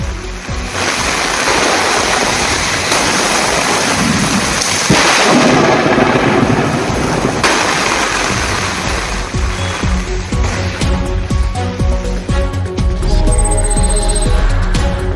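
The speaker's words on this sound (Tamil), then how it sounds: "1 மணி நேரத்திற்கு மேல் இடியுடன் கூடிய கனமழை பெய்தது" Heavy rain pours loudly and continuously, with deep thunder rumbling through it, during an hour-long storm over Pallipattu and Pothatturpettai in Tamil Nadu.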